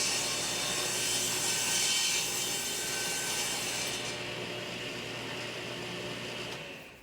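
Reclaimed oak is sawn to square off one end, a continuous close grinding power-saw cut that holds steady and then winds down at the end.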